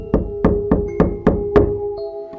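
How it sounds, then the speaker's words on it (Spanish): Six firm knocks land on a door in an even rhythm, loud and close with a hollow resonance, followed by a faint tone as the sound dies away. "de repente llaman a la puerta"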